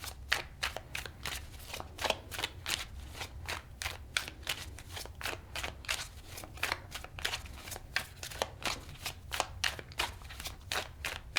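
Tarot cards being handled and shuffled, a rapid steady run of crisp, close riffling flutters repeating for several seconds with no voices.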